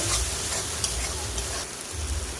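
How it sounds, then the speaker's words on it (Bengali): Prawn masala with ginger garlic paste fries in a pan, a dense steady sizzle with a low rumble and faint stirring scrapes, close and continuous. "আদা রসুন বাটা দেব। এটা দিয়ে একটু কষে নেব।"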